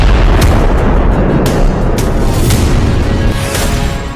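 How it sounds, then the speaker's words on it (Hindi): A blast in Delhi near shops, strong enough to shatter their glass: a loud, continuous low roar with scattered sharp cracks running through the whole stretch. "धमाका इतना जोरदार था कि आसपास की दुकानों में लगे शीशे टूट गए।"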